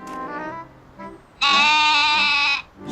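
A cartoon goat with a thorn stuck in its leg lets out one loud, sustained bleat lasting about a second, preceded by softer vocal sounds and followed by a brief new sound at the end.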